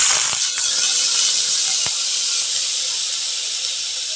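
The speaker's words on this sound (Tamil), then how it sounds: "வெங்காயம் நல்லா வதங்கட்டுங்க" Two finely chopped large onions hitting hot oil with mustard seeds, giving a loud, steady broadband hiss that holds throughout with a few brief crackles near the start.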